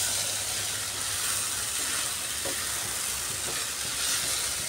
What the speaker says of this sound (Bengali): বেশ কিছু সময় নিয়ে আমি এটাকে কষাচ্ছি